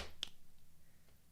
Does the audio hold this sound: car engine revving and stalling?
no